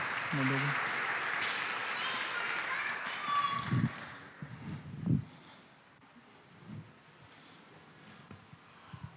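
A church congregation applauds, a steady crowd of clapping that fades out after a few seconds and leaves scattered footsteps, shuffling and a few low voices in the room.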